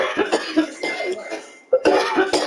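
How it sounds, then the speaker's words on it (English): A violent, harsh coughing fit from a man, several rough bursts in a row with a brief gasp before a final burst of hacking, loud and close. "but it's like this cough is violent"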